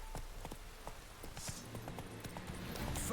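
Horse hooves clip-clopping at speed in The Witcher 3, a quick run of faint, even thuds under low game music and ambience.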